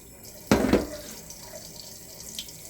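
A lab sink tap runs briefly while moisture is added to a soil sample for a moisture content test, a short splashing gush lasting about half a second over a quiet background.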